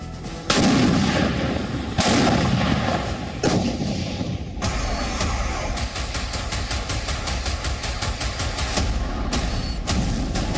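Heavy explosions and bursts of gunfire from a Russian airstrike on Kherson, Ukraine, with loud booming blasts and sharp cracking shots repeating through a dense, continuous barrage.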